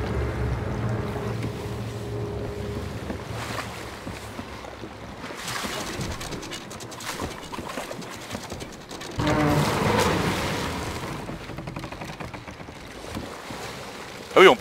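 Ship taking on water at sea in the game Sea of Thieves, with a steady wash of water and creaking hull, a louder rushing surge midway and a sharp burst at the very end.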